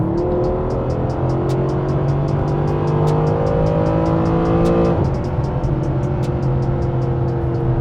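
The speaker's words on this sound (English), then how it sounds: "So we're going to do a quick pull to see how the car responds." A supercar engine surges loudly under hard kick-down acceleration from seventh gear in Sport Plus automatic mode, its pitch rising before a quick gear shift, then pulling hard again; no talking.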